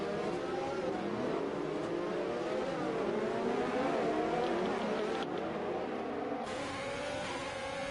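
F1 cars race in an esports racing video game, a dense layered engine whine with several cars at high revs, steady and loud throughout with shifting pitch as they jostle for position.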